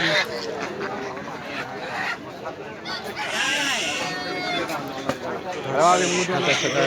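Chickens cluck and call at a busy village market day in rural Bengal, with a few sharper calls rising above steady crowd noise and nearby voices.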